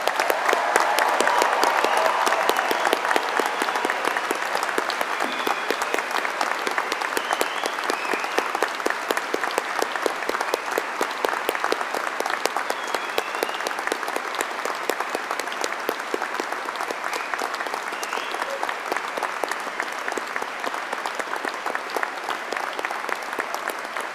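A large audience at a university graduation ceremony gives a long, steady round of applause for award and prize recipients. The clapping is dense and even, with no talking.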